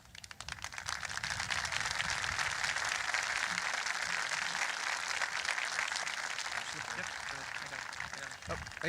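Audience clapping at a 2023 high school graduation ceremony as scholars are called up, a continuous crowd applause bed heard at moderate distance with faint voices mixed in.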